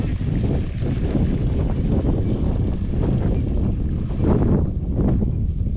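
Strong wind roars and buffets the microphone in a steady, rumbling rush at a Texas marsh, with gusts swelling and fading throughout.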